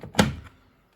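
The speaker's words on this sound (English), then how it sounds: "Release tab there, push down to release the drawer." The detergent drawer of a Hisense WFEA6010 washing machine is released with a single close plastic clunk, a short sharp knock that fades quickly into quiet.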